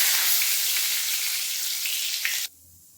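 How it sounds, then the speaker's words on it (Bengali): Whole cumin seeds and two bay leaves sizzle in hot oil in a pan for a chola ghugni curry, a loud, steady hiss that cuts off abruptly near the end. "তেল গরম হয়ে গেছে এতে দেব জিরে গোটা জিরে আর দুটো তেজপাতা"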